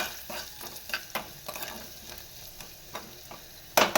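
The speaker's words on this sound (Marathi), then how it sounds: "फोडणीमध्ये कोथिंबीर टाकली" Chopped coriander sizzling in hot tempering oil with a steady crackle, punctuated by sharp spoon scrapes and stirring clatter against the pan, close and clear with no talking.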